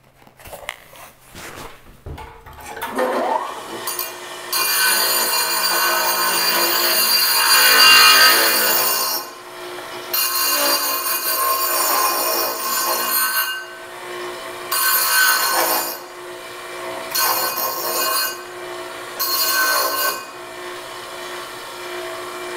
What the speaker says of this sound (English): we're going to use a aluminum oxide wheel, and this one has an angled shape on it, but I'm going to dress it to a round shape